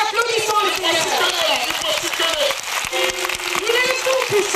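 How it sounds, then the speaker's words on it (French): A church congregation claps along in rhythm while a loud voice carries over the applause. "Alléluia, applaudissons le Seigneur."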